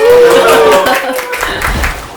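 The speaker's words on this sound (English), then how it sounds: "Let's give them a round of applause" An audience claps for two school counsellors at a student talk show. The applause comes in a short burst with talk over and after it.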